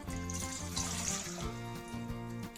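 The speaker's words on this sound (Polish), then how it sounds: "do garnka wlewam pół litra wody" Half a litre of water pours steadily into a pot for sugar syrup in plum winemaking, with a bright splashing hiss, while soft background music plays underneath.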